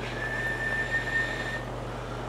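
A single steady whistled tone into a stock microphone on a Maco 200 linear amplifier, held for over a second against a constant hum and hiss, then fading out.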